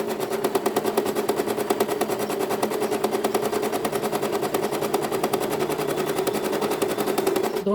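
A sewing machine runs steadily through fabric, its rapid stitching rattle continuous and fairly loud for about seven seconds before stopping at the end, with no talk.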